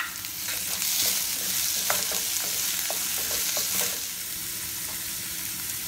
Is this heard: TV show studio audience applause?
no